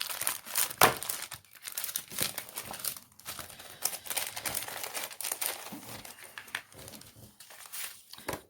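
Plastic wrapping on a diamond painting kit is crinkled and torn open up close, producing irregular bursts of rustling and crackling with brief quiet gaps.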